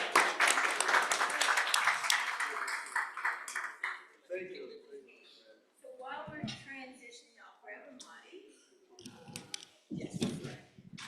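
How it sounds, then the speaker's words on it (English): Audience at an education symposium applauds a panel, a dense burst of clapping for a few seconds that thins into scattered claps, with speech breaking in as it fades. "You deserve applause."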